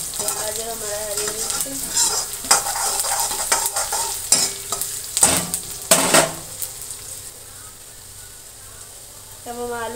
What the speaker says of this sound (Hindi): हम अच्छे से फ्राई करेंगे।